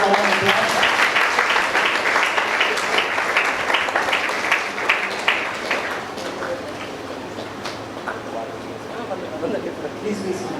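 Audience at the ISKCON Vijayawada Prerana Festival clapping in a burst of applause that starts loud and slowly thins out over several seconds, with some crowd noise mixed in.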